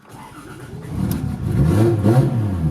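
Toyota 2JZ engine held at a raised idle while warming up, a steady mid-pitched hum that swells and climbs as the throttle is worked to keep it from stalling, close and continuous with no talk.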